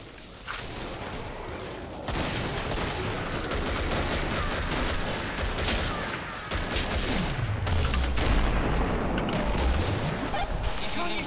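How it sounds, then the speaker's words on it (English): Rapid bursts of gunfire and booming blasts from Killing Floor fill the clip, dense and loud, with a deep descending then rising whoosh near the end. "Explosions, explosions."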